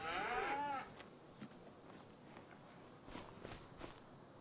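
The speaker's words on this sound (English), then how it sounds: "Just happy little cows." Cattle in the video game Farming Simulator 25 give one loud, drawn-out moo up front, followed by soft hoof steps and faint shuffling thuds in the background.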